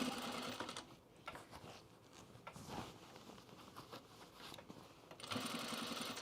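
Domestic sewing machine running over an already sewn seam on a pajama top, a quiet steady needle patter in short runs with brief pauses.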